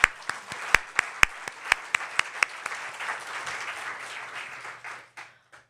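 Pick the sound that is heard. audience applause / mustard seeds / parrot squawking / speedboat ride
audience applause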